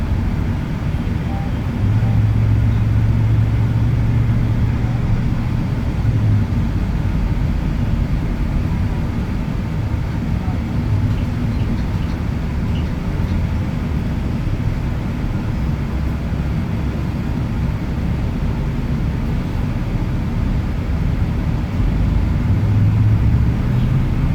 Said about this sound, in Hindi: सड़कें, ट्रैफिक, रोशनियों का शोर और लोगों की रोज़मर्रा दौड़, सब कुछ एक साथ चल रहा होता है।